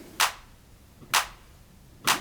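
Three crisp, evenly spaced clap samples from a house music track snap out alone at about one-second intervals, bright and dry with the low end trimmed away.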